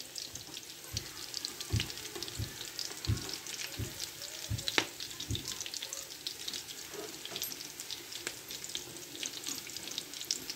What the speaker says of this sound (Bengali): এই তো কাবাবগুলো ভাজা হয়ে গেছে। এখন আমি তেল থেকে উঠিয়ে নিব কাবাবগুলোকে